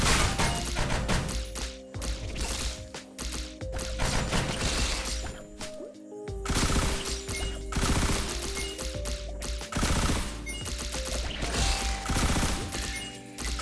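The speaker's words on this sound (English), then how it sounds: "Rockets everywhere." Rockets firing in Risk of Rain Returns, a dense barrage of rapid blasts and impacts stacking over game music, loud and continuous for most of the stretch with a brief dip near the middle.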